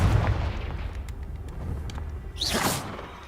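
A Confringo fire spell in Hogwarts Legacy bursts with a booming blast over a low rumble, then a bright whooshing flare of sound near the end.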